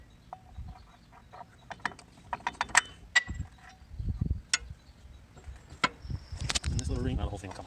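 A ratchet with a 1.25 inch socket clicks on a disc mower during maintenance, giving uneven bursts of metallic ratcheting and clanks mixed with handling noises, while someone talks intermittently.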